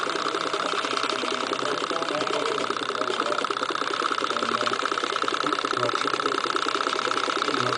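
A Bohm Stirling hot air engine runs at a steady, fast mechanical chatter, a constant whirring rattle like a small sewing machine, close and even throughout with no pauses.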